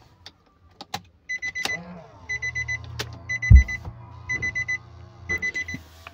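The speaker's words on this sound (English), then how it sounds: "the next step is to turn the car to the on position" A car's ignition is switched to the on position, setting off a run of repeated electronic chime beeps in short bursts alongside a low steady hum and a brief thump, all close and moderately loud with no talk.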